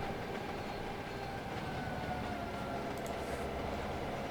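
A train pulls out on an Australian route in the Trainz console game, giving a steady, continuous rumble of rolling stock with faint clattering, even and moderately loud throughout, with no talking.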